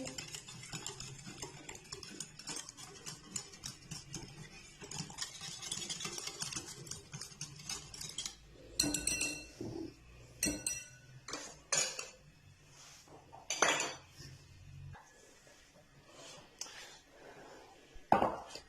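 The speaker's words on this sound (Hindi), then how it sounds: "इन सारी चीजों को अच्छी तरह मिक्स करेंगे" A spoon rattles rapidly against a bowl while chicken marinade ingredients are mixed. Fast, dense clinking gives way to slower, separate scrapes and knocks, fairly faint throughout.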